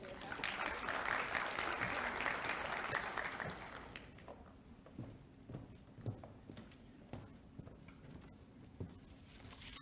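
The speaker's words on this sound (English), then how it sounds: "let's go ahead and give Patrick Martin a round of applause." Audience applause greeting a speaker at a 2022 MLK celebration ceremony, a dense burst of clapping for about four seconds that fades to scattered claps and quiet room noise.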